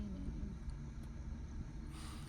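A car in a driving lesson creeps slowly backward in reverse, its engine giving a low, steady idling rumble close by with no voices, and a faint hiss rising near the end.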